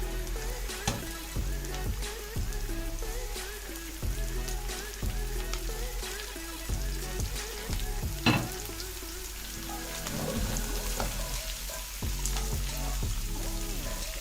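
Onion and mixed vegetables frying in a pan for egg fried rice, giving a steady, close crackling sizzle that runs throughout with light stirring clatter and no talking.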